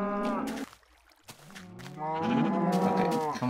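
Video game cows moo several times in long, low, drawn-out calls, one after another with a brief quiet gap between them.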